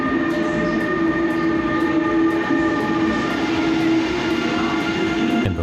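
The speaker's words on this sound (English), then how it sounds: "there it is, our train into the city" An Amsterdam Sprinter train pulls into a rainy station, its loud steady rumble and sustained tonal whine filling the platform, with faint rhythmic clicks over the rolling noise.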